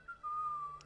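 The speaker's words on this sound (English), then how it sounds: "And the figure starts whistling." A lone person whistles one sustained, steady tone, faint and close, with no talking over it.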